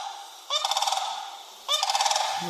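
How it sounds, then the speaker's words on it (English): Large cranes in a Florida front yard give two loud, rattling, bugling calls about a second apart. Each call lasts under a second, and no one talks. "there's these huge birds, these huge cranes that you see in your front yard sometime, and they make this noise."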